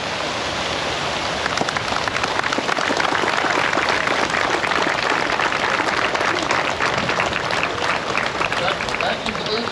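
Sustained loud applause from a crowd honoring veterans at an Honor Flight Chicago ceremony, dense rain-like clapping that fills the whole ten seconds without a break.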